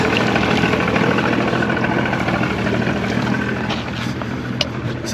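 A small shrimp trawling boat's outboard motor runs steadily and close, a continuous rumbling drone with wind noise and faint clanks near the end.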